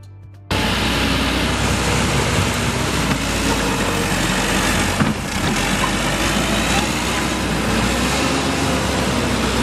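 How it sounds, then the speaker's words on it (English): A loader's engine runs loud and steady at close range, a broad continuous roar with a low rumble that starts abruptly and holds without a break. "Loader."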